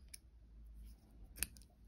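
Scissors snipping crochet yarn, one faint short cut and a sharper snip near the end over a low hum, no voice.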